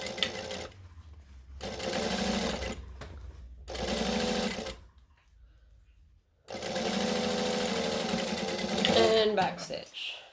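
A sewing machine stitching around the armhole of a McCall's M6896 sleeveless top, running in three close, loud bursts of rapid whirring separated by brief pauses, with talk at times.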